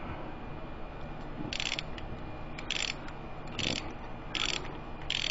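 A ratchet with a magnetic plug socket snugs AC Delco spark plugs on a 2007 Saturn Ion, giving five short bursts of close, crisp clicking separated by brief pauses, with no talking.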